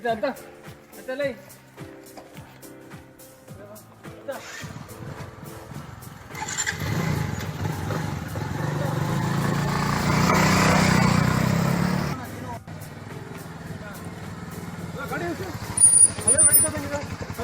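A motorcycle engine starts and settles into a steady idle, running for several seconds at moderate distance after people talk, then cutting off before brief voices resume.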